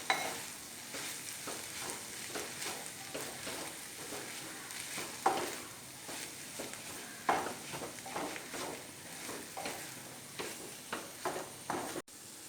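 Cooked chicken being stirred into a rava chicken biryani in a pot, soft repeated scraping and gentle sizzling at low volume, close by, with no voices.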